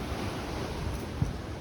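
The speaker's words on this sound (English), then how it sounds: "Nice big breakers in the ocean." Big ocean breakers rolling in below a climbing area, a steady low wash of surf with wind noise over the microphone and one brief thump near the end; no one speaks.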